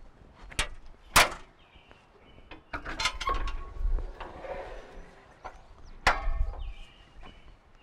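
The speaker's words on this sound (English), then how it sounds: "let's open the rear of this machine" Rear door of a Takeuchi TL12v2 compact track loader is unlatched and swung open, with sharp metallic clunks, a rattle and a final latch clack, close and alone.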